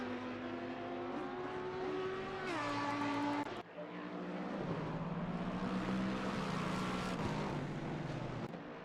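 Lexus race car engines in a racing game on the Spa circuit, a loud, continuous high-revving drone that shifts pitch through gear changes, with a sharp drop and recovery partway through.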